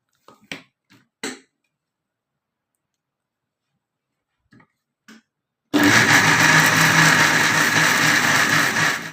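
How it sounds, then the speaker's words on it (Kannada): A few sharp clicks of a lid being fitted onto a mixer grinder, a pause, then the grinder roars on at full loud steady whir, grinding wet masala for a moong dal and potato curry. "ಈಗ ಲಿಡ್ ಕ್ಲೋಸ್ ಮಾಡಿ ಮಸಾಲೆ ರುಬ್ತೀನಿ."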